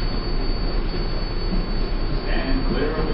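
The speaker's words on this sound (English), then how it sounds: "This is a Manhattan-bound 7th local train." A New York City subway 7 local train running toward Manhattan, a steady loud rumble of wheels on rail filling the whole stretch, with brief higher squealing near the end.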